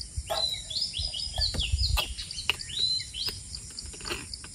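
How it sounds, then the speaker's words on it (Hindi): Several birds chirp and tweet in short, high calls scattered through the clip, fairly near, over a soft outdoor background hum in a forest. "अभी और भी कई सारे चिड़िया आ गए"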